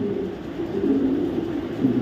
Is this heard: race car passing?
no